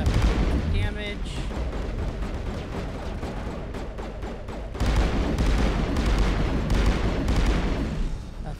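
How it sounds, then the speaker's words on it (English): Gunfire in Mass Effect: Legendary Edition, with dense, rapid shots and booming bursts running almost continuously and growing louder partway through. "Nothing like shooting the terrorists in the head."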